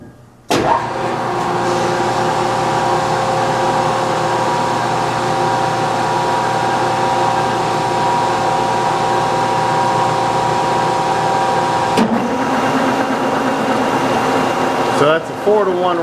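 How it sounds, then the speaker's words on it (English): A power-feed machine spins at roughly 500 RPM, starting abruptly and then holding a loud, steady mechanical whir with a constant hum, shifting briefly near the end. "I'm going to go ahead and fire the machine up."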